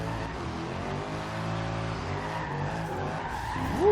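In the Forza Horizon 2 racing game, a Mercedes AMG E63 Biturbo skids sideways in a drift, its tires squealing steadily over a droning engine for a few seconds.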